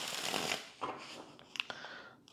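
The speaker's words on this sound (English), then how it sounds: "One more shuffle for Leo." Tarot cards being shuffled by hand, a few quick soft riffling bursts and light taps, close and faint, with no talking.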